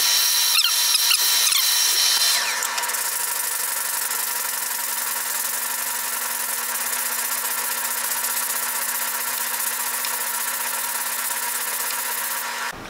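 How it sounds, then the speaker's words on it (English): A loud, continuous whirring rasp of sanding on a wooden guitar neck with 120-grit sandpaper, rougher and busier for the first couple of seconds, then steady until it stops. "So when I start sanding here,"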